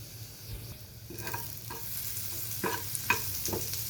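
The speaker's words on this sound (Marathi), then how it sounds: "तेल तापलं की हा जो शिल्लक राहिलेला मसाला आहे तो घालून घेऊया आपण" Leftover masala for stuffed okra frying in hot oil in a pan, a steady close sizzle with intermittent scraping stirs and light clinks, no voices.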